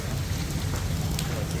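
Heavy monsoon rain falls in Gujarat, a dense, continuous hiss of drops on surfaces that stays constant and fairly close.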